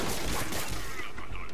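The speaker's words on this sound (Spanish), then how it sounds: "Son petardos." Firecrackers crackle in Marvel's Spider-Man game, a dense rapid burst of popping bangs over about a second and a half, loud and close.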